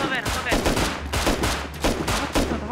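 Gunfire in the survival video game Rust: a rapid string of loud, close gunshots in irregular bursts, some near-automatic, with heavy impacts between them.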